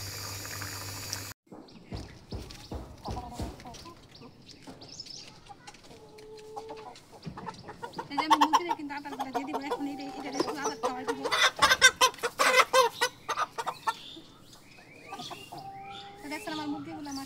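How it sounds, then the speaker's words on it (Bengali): Several large pet chickens cluck in short, scattered bursts nearby, growing busier midway, with a voice speaking intermittently between the calls. "আমার মুরগিগুলো মাশাআল্লাহ কিন্তু অনেক বড় হয়েছে"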